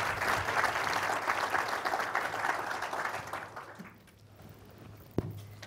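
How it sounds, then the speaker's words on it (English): A conference audience at a 2014 Arizona bioscience expo applauds a funding panel. The clapping is full and steady for several seconds, then fades to a quiet room with a single thump near the end. "would you please give them a big round of applause?"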